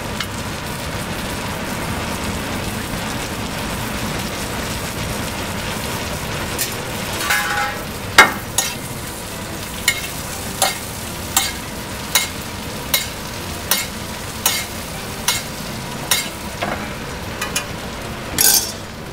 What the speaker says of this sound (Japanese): だいたいフライパンの上で焼く時間は5分もあれば十分だと思います